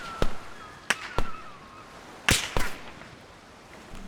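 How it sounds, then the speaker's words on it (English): Supersonic gunshots in the video game DayZ crack out as five sharp snaps, two spaced pairs and a single, each a sudden loud burst with a short ringing tail and no voices. "The supersonic weapons of DayZ will now make different snap sounds"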